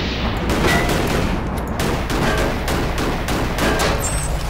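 Rapid continuous gunfire in the side-scrolling combat game Cortex Command, a loud dense fusillade of repeated shots and booms filling the whole stretch, with no talking heard.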